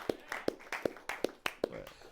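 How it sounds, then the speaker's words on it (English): A comedy show audience gives sparse, evenly spaced hand claps, about eight crisp separate slaps, fairly close and with no chatter. "Let's give me a round of applause."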